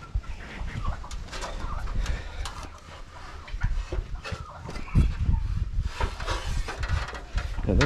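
Indonesian Black chickens cluck and squawk steadily around a greenhouse cage, with scratching and movement sounds mixed in and little talk.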